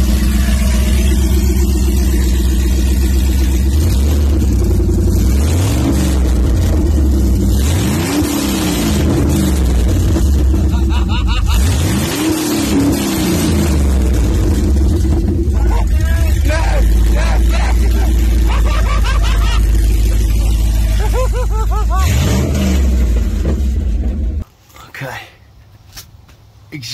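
An LS1 V8 engine in a Nissan GU Patrol with a new exhaust revs repeatedly close by, rising and falling in pitch through a loud exhaust note, with people talking over it, then suddenly cutting out.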